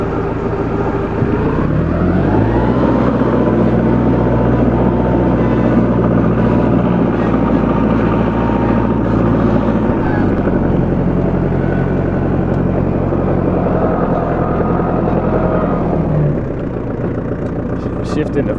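A Farmall 45A tractor engine runs loud and close with a steady, throbbing drone, its pitch rising as the tractor starts to move and shifting again later, while someone talks over it.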